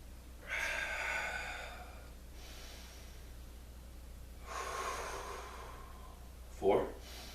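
Deep, slow yoga breathing: a long airy exhale, then a pause, a second long breath, and a short sharp snort-like breath at the end, all fairly close in a quiet room.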